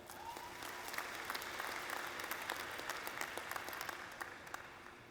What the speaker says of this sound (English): Let's give an enthusiastic round of applause to the class of 2023.